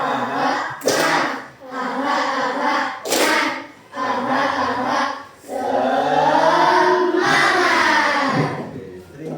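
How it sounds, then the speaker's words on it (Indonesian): A grade 5 class chants a rhythmic cheer in unison, with sharp group claps landing between the sung phrases. The voices are loud and close, filling the room. "kita melakukan tepuk semangat"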